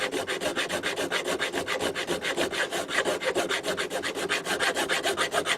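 A hand file rasps back and forth across a persimmon wooden golf club head in steady, rhythmic strokes, about five per second, close and even with no talking.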